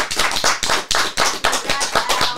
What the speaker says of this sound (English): let's give Al a warm applause, everybody